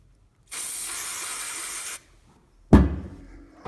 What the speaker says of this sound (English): what I'll do is I'll give that a spray.